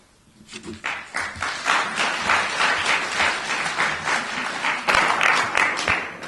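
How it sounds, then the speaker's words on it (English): An audience at a village election debate breaks into applause, a dense burst of many hands clapping that rises quickly after a quiet start and holds loud and steady to the end, with a voice briefly heard underneath. "I'd also like to remind the audience if you would hold your applause till the end"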